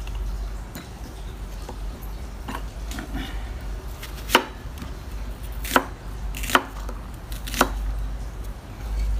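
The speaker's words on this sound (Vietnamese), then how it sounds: "mình chẻ đôi ra xong rồi mình sẽ cắt như vậy là được" A knife chops onion on a board for stir-fried chicken gizzards: a few sharp, isolated cuts spaced irregularly over a quiet kitchen background.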